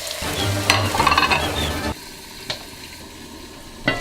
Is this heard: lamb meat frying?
yes